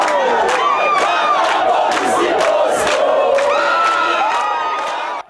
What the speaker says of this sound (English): The crowd soon grew and began chanting and singing